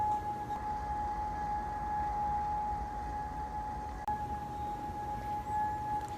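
A mysterious loud ringing hum over central Edmonton: a steady sustained tonal drone with a faint higher overtone, continuous and unchanging under broad background rumble and wind noise, with no voices.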